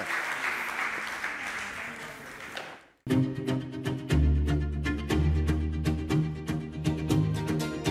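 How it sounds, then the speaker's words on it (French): Audience applause at a booksellers' forum fades out after about three seconds, then gives way abruptly to music. "tout le monde applaudit"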